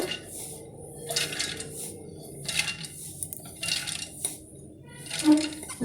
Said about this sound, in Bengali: এবার আমি একটা মিক্সি জার নিয়েছি, এর মধ্যে আমি ডালগুলো দিয়ে দিচ্ছি